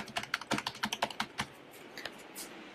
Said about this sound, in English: Now I'm gonna show you that the key noise